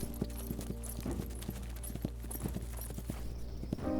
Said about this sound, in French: Un galop au milieu de nulle part.